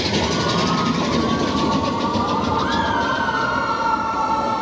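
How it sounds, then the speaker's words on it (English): A train rolls past at Disneyland, a steady loud rumble with a rising whistle-like tone partway through, continuous and close throughout with no talk. "Oh my gosh, another train!"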